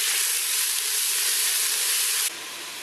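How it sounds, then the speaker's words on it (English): Finely chopped onion hits a hot pan with asafoetida and curry leaves, giving a loud steady hiss of sizzling that cuts abruptly quieter near the end. "Then you are going to add your finely chopped onion"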